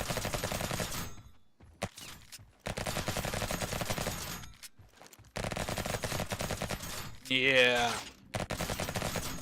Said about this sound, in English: But dual auto pistols is pretty freaking badass.